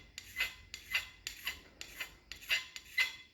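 Hand scraping a metal part from a Grizzly lathe, six rhythmic rasping strokes about half a second apart, close up and crisp, with no talk.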